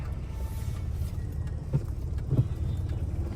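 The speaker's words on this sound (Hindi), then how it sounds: "अरे कैसी आवाजें निकल रही है गाड़ियों में से।" Vehicles on the road produce a low, steady engine rumble with a couple of brief thumps, fairly quiet and continuous, with no talking.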